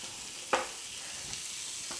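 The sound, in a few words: frozen sausage patties browning in a frying pan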